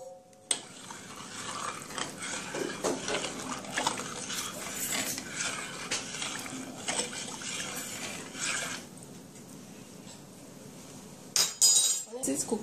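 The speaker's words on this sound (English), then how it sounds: "Now I'm gonna stir this." Washed rice being stirred in a pot with melted butter, with scraping and clinking of a utensil against the pot, close and fairly steady, under a speaking voice.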